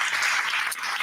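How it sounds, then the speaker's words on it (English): A brief burst of audience applause at a community event, many hands clapping densely and loudly without pause. "please give them a round of applause."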